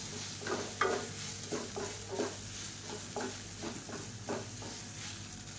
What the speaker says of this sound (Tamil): இந்த எண்ணெயில் கொஞ்சம் நல்லா பரட்டி விட்டுக்கலாம்.